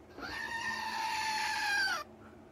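A goat lets out one long, loud, wavering bleat lasting about two seconds, close by, then stops abruptly.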